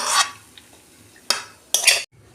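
Cooked kochu shak with hilsa fish head is scraped from a pan into a dish in three separate bursts of scraping and clattering, close and clear, with quiet pauses between.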